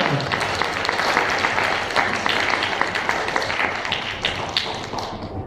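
A church congregation applauds during a Sunday service, a dense run of close clapping that stays strong and gradually thins toward the end.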